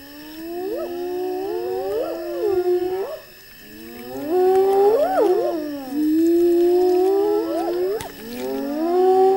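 Hyenas near a lion kill let out a wailing chorus, with overlapping rising and falling whoops and howls in several long, loud swells, fairly close, with no talk.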